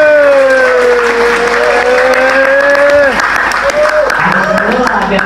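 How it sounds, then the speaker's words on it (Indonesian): An audience claps for teachers at an LKP SSJ Bekasi course event, a steady wash of applause beneath a loud voice speaking over it. "Beri tepuk tangan sekali lagi untuk guru-guru ini"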